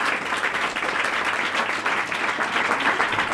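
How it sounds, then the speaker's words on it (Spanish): Loud, sustained applause from a stand-up comedy audience, a thick continuous roar of clapping with no break over a few seconds and no voices standing out above it. "Daros un aplauso fuerte para vosotros,"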